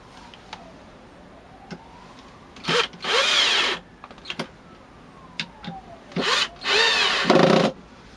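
Power drill boring pilot holes in wood for a homemade bird feeder. Two main close whirring bursts run several seconds, with brief taps and short spins between them.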